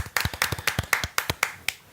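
A small group claps for a guest on a podcast-style show, with distinct, separate, fairly close hand claps in an uneven rhythm rather than a dense wash, alone without talk.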